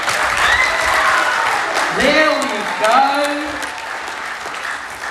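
Audience clapping and applause at a Pasifika Fusion main-stage event, a dense sustained crowd of hands under a voice talking over it, staying loud from start to finish.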